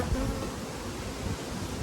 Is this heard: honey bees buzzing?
yes